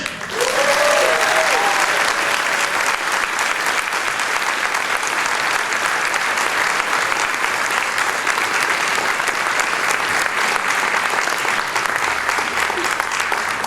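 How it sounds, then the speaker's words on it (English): A large crowd at an acceptance event for Richard Dent claps and cheers loudly and continuously, a dense wash of applause with shouts mixed in, holding steady for over ten seconds. "Let's give him a really big cheer"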